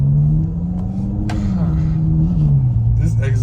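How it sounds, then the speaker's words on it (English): A 2018 Ferrari GTC4 Lusso exhaust gives a deep, close, steady rumble that swells and eases slightly in pitch, as at a light rev, with no hard full-throttle climb. "this exhaust is so powerful and it's so scary that I can't even floor it"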